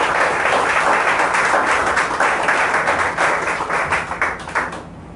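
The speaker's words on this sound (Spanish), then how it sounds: "dale un aplauso fuerte al Señor." Church congregation applauding loudly and steadily for several seconds, a dense wash of many hands clapping that thins and fades out near the end.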